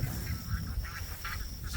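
Ducks quack faintly and intermittently at a stockwater pond on grazing land, a few short calls sitting under steady wind-like outdoor noise.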